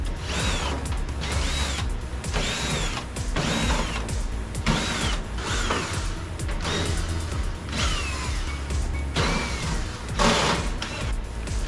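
A power screwdriver backs screws out of a panel on a Viking microwave, giving repeated short ratcheting, whirring bursts roughly once a second, close and steady with no talking.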